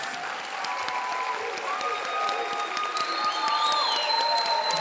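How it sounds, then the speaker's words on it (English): A crowd at a December 2024 technical college commencement ceremony applauds graduates with steady, sustained clapping. Soft music plays underneath the clapping. "Let's give a round of applause to our Fall 2024 graduates."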